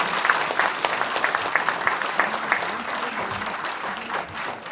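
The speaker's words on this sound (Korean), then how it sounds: "정말 박수를 쳐드리고 싶습니다" Moderate, steady clapping from a crowd at a Seoul city council book event, continuous for several seconds, with a faint murmur of voices underneath.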